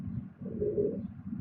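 Pigeon cooing nearby, a soft low throaty coo swelling in the middle of a short stretch, no talk.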